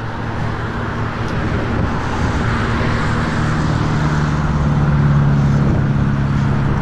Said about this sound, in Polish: Jest niestety głośno. Duży ruch samochodowy.